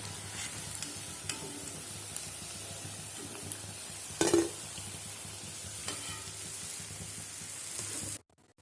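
Idli batter bondas deep-fry in hot oil with a steady, close sizzle and crackle. A brief clatter sounds midway, and the sizzle cuts off abruptly near the end.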